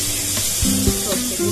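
Brinjal frying in a pan for a Bengali chachchari, a steady sizzle running throughout with a few soft clinks and stirring sounds, while a voice speaks briefly over it.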